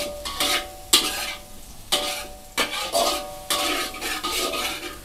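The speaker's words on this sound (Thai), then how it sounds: "น้ำมันเขาร้อนนะครับวิธีการเจียวแบบนี้จะช่วยให้กระเทียมหอมนะครับ" Garlic fries in hot pork lard as a spatula scrapes the pan in repeated rough strokes over a steady sizzle, near and fairly loud, without speech.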